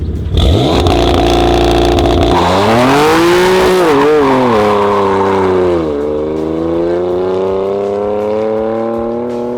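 A BMW F80 M3 launches hard with a loud raspy roar, climbing through the revs, dipping briefly at a gear change, then pulling steadily again and fading slightly as it moves away, with no talk over it.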